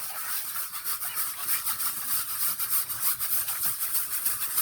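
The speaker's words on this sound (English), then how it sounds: "And this time, let's give it the scrub brush treatment too." A scrub brush scrubs a tire coated in Meguiar's Hot Shine foam tire spray, producing rhythmic bristly rubbing strokes in a steady, close back-and-forth pattern with no voices.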